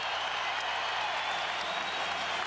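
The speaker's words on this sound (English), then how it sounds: "And listen to the crowd in Hilton Coliseum." Crowd roaring and applauding throughout an indoor college basketball arena, Hilton Coliseum, as Iowa State rallies against Kansas; a dense, steady wall of cheering with no pauses.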